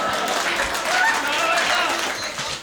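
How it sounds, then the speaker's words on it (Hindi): An audience applauds at a Hindi comedy poetry show, a dense steady wash of clapping lasting a couple of seconds at moderate volume. "तालियां रोक के बताना"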